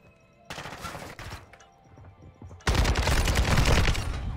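Automatic pistol fire in Call of Duty MW2: a quieter rapid burst of shots early, then a much louder, sustained stream of close automatic gunfire over the last couple of seconds, with no voices.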